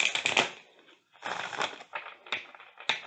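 Kawaii tarot cards with coarse, cardboard-like edges being shuffled by hand: several quick papery riffling bursts, close and moderately loud, separated by short pauses, with a few sharp taps near the end.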